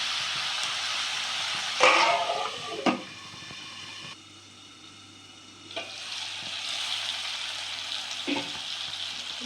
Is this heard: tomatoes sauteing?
yes